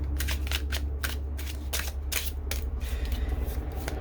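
Oracle cards shuffled by hand in steady, quick bursts of papery riffling and slapping, close and fairly loud over a low background hum, with no talking.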